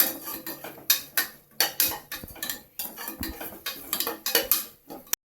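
Ginger garlic paste sautéed in a pan, a metal spoon scraping and clattering against the pan in quick irregular stirring strokes, close and alone with no talking.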